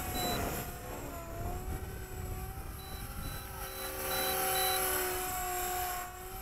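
A Blade 180 CFX RC helicopter flies nearby on its first flight, its rotor and motor giving a steady whining drone with shifting pitch that swells louder toward the end, with no talking.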